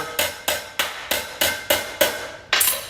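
Sharp metallic hammer blows from a sheet metal hammer striking metal ring out one after another at a steady pace, seven or eight strikes, close and clear with no talking.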